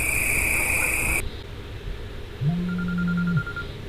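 A telephone rings loudly with a steady high electronic tone, cuts off abruptly, then a quieter low beep and a faint repeating tone follow in a quiet room.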